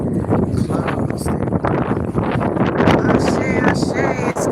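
Wind blowing at a beachfront park in South Carolina, loud gusty buffeting on the microphone that roars steadily throughout, with a voice talking underneath.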